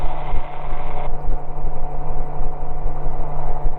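Light aircraft engine droning steadily while climbing out from a dry, mowed grass airstrip, a constant moderately loud hum with a faint rattle and no talking.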